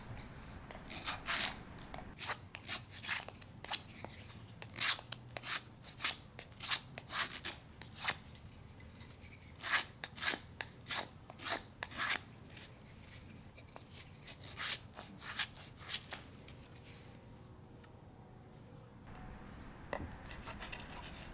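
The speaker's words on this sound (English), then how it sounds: "pick a spot on that fireboard for your hand drill spindle and carve a small" Knife blade scraping and carving a small indentation into a wooden fireboard for a hand drill spindle, a series of sharp, close scratchy strokes in irregular bursts with brief pauses between.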